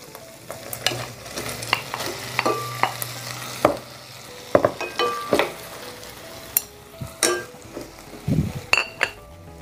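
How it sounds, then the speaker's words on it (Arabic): Okra sautés in a pan while a spoon stirs it, giving repeated clinks and scrapes against the metal over a soft, steady sizzle, close and uneven in rhythm. "نسيبها تتشوح شوية، نقعد نقلب ونقلب."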